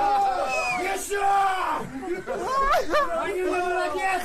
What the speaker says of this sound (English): The Russians cheer again.